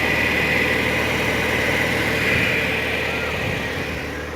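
A rebuilt car engine idles in a workshop in Shymkent with a steady, unbroken droning rumble. The level stays even throughout and no one speaks.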